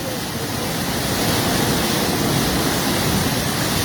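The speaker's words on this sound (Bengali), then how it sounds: "পানির বেগ কমছেই না, বৃষ্টির কারণে, অতিরিক্ত বৃষ্টির কারণে পানি" Rushing floodwater of the Khowai river in Habiganj during heavy rain, a steady, loud broadband roar like a waterfall that holds constant throughout with no voices.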